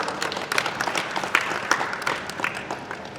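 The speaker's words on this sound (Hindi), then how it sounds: "हमारे ऋतुराज जी खन्ना साहब के लिए एक बार जोरदार तालियों से स्वागत करें।" Audience at a banquet and resort event applauding to welcome a guest, a steady wash of many hands clapping with a few sharper claps standing out, sustained throughout.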